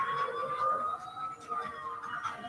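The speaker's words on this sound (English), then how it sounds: "And let's just ride on the ambulance," An ambulance siren wails in the Spider-Man: Web of Shadows video game, a steady warbling tone that rises and falls over a faint low background, fairly quiet and continuous.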